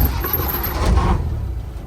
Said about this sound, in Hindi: गाड़ी स्टार्ट कर। रिवर्स है।